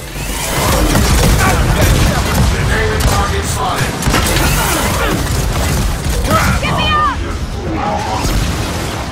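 Loud, dense shotgun blasts and heavy combat noise from the Gears of War 4 campaign, continuous booming and crashing throughout with other game sounds layered in.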